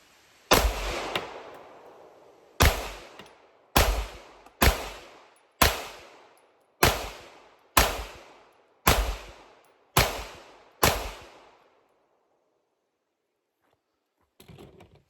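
Ten rifle gunshots fired during an optic test, sharp loud cracks spaced about a second apart, each trailing into a reverberant decay outdoors, with a faint clatter at the end.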